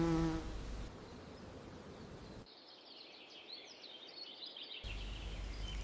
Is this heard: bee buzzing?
yes